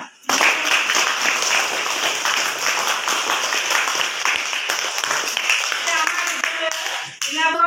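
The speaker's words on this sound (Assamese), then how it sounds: "সকলোৱে বাইদেউ কাৰণে ধুনীয়াকৈ হাত চাপৰি মাৰা।" Schoolchildren clap together for their teacher at a school celebration, a steady dense patter of many small hands that swells suddenly, holds evenly for several seconds, then fades out near the end.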